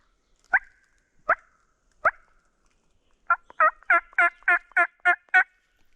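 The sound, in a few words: wild turkey gobbler gobbling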